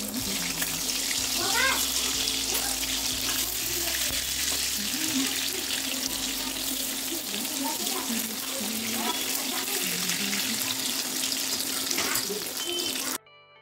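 Water pours steadily into a pot of mung dal on the stove, a continuous rushing splash lasting over ten seconds, close and fairly loud, before stopping abruptly.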